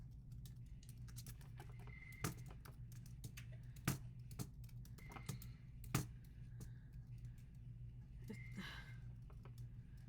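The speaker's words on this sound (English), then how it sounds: "I'm just gonna type it in." Fingers tapping on a computer keyboard in a quiet room over a steady low hum, a soft pattering of keystrokes with a few sharper clicks, fairly faint and uneven in pace.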